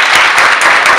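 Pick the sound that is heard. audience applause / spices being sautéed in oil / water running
audience applause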